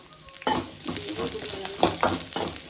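Chopped onions frying in hot oil with mustard seeds, sizzling close by while a spatula scrapes and stirs in several sharp strokes over a steady crackle, with no voices.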